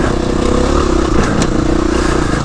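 A KTM 350-EXC dirt bike engine labours loudly and steadily up a hill in second gear, close by, with a continuous throaty drone and some clattering over rough ground.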